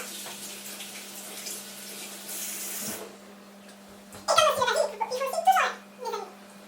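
Tap water runs over fresh mint being rinsed for bruschetta, a steady hiss under a person's speech that gives way to brief splashing and spattering near the end.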